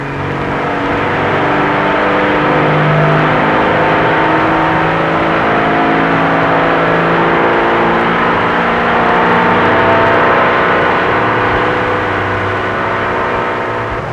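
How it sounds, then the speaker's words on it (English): An International Silver Diamond truck engine runs under full load on a dynamometer, a loud, steady, unbroken roar with a deep droning hum throughout. "Another Silver Diamond engine, this one under full load on another dynamometer."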